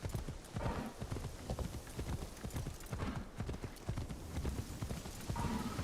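Horse hooves gallop in the video game Assassin's Creed Shadows. Rapid, continuous clip-clop beats pound over a rumbling ground, with a brief whinny-like tone at one point. The hoofbeats are sustained and fairly close.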